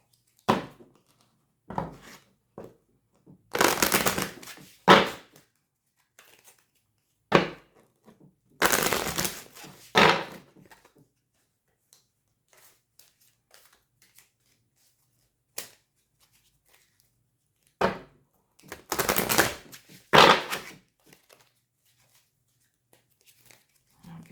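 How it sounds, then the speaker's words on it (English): A thick stack of oversized oracle cards riffles and crackles in repeated bursts separated by pauses, close by, with quiet handling noises between shuffles. "going to do another shuffle with the journey and the goddess deck"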